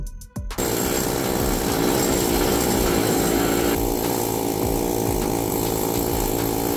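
A loud power tool grinds paint off metal before welding, a steady, harsh, continuous whine that starts abruptly after a short quiet moment and runs without pause; no voices.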